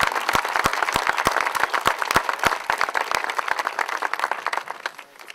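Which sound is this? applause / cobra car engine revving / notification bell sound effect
applause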